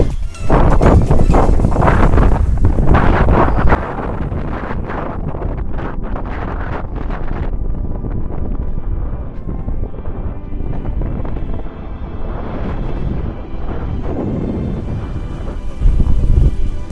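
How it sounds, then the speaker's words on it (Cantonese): Strong, gusty wind roars and buffets the microphone on a hilltop, loudest at the start and end, with steady blustery rushing in between. "好大風啊！"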